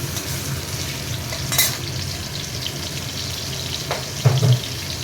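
Fish heads fry in hot oil with a steady crackling sizzle, punctuated by a few louder spatters and the scrape of a spatula against the pan.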